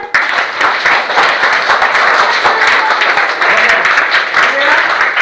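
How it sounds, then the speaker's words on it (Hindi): A room of students claps loudly at a school safety session, a dense, sustained burst of many hands close by that runs for several seconds, with faint voices mixed in. "तो एक बार जोरदार ताली बजाइए"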